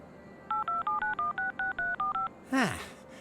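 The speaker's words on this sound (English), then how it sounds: "let's go with the phone, shall we? Okay, what should I dial?" Telephone keypad dialing in the Leisure Suit Larry video game, a quick sequence of about eleven evenly spaced touch-tone beeps followed by a descending swooshing tone.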